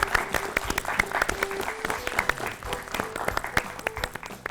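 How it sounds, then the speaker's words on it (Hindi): Studio audience of children clapping after a correct quiz answer on a values-education show, a lively, dense burst of applause mixed with some crowd noise, close and steady throughout. "तालियां।"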